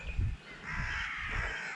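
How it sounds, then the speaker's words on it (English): Crows cawing in Holyford Woods, Seaton, Devon, a few harsh caws close by in the quiet countryside. "Oh, there's the crows."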